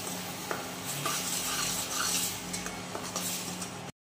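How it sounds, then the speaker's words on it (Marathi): Fried masala and Everest chicken masala sautéed in hot oil for a spicy hotel-style chicken rassa, with a steady close sizzle under repeated spoon stirs and scrapes against the pan. "त्यात तळलेला मसाला टाकून छान परतू द्यायचं।"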